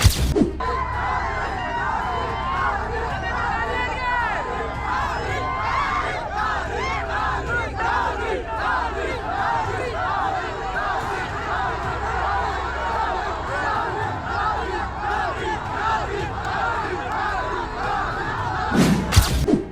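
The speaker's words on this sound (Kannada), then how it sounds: "ಟಿಕೆಟ್ ಆಕಾಂಕ್ಷಿಗಳ ಬೆಂಬಲಿಗರು ತಮ್ಮ ತಮ್ಮ ಮುಖಂಡರುಗಳ ಪರ ಜೈಕಾರ ಘೋಷಣೆ ಕೂಗ್ತಿದ್ರು" A large crowd of political supporters shouts slogans and chants together, voices overlapping in a continuous roar with rising cries, steady at moderate distance.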